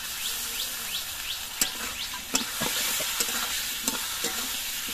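Potatoes sautéed with turmeric and a ground green-chilli spice paste give a continuous sizzle, with several sharp clinks and scrapes of a spatula against the pan.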